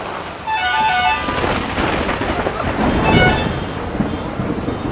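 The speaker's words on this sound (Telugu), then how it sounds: "వర్షం వస్తుంది." Steady rain pours down during a thunderstorm, a dense continuous hiss with low rumbling thunder swelling beneath it and no voices.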